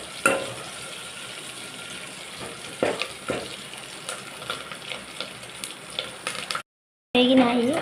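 Spices tempering in hot oil for a mixed-vegetable sambar crackle and sizzle in a steady bed of frying noise, with a few sharper pops and stirring clatters, a brief gap near the end, then a short burst of nearby voice.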